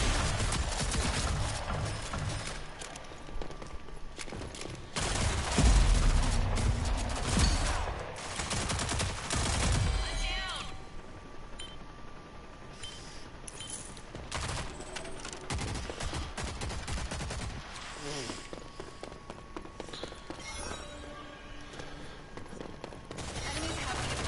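Gunfire from a weapon in the video game Rogue Company, a rifle holding ten shots with a fast fire rate, cracking in bursts and volleys through the clip alongside other combat noise.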